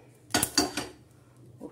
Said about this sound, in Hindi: अब इसको मिक्सी के बर्तन में ट्रांसफ़र कर देंगे